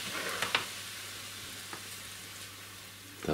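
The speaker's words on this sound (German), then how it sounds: "So, jetzt wird das hier kurz angebraten." Burger patty and shrimp frying in two pans, a steady soft sizzle with a few brief clicks and scrapes, fairly close and without talk.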